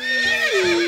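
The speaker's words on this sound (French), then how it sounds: "on rêve que notre cheval nous accueille en hennissant comme un taré" A horse whinnies loudly and close by, one sustained neigh that rises then falls and trails off, with a faint hoof shuffle underneath and no voices.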